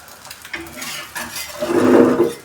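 An omelette fries in oil and is flipped in the pan, with soft scraping and clinking of a spatula that swells into a louder sizzle near the end.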